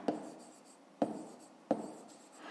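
A pen writes on paper in three distinct strokes, each starting with a firm tap and trailing into a soft scratch, close and quiet with no voices.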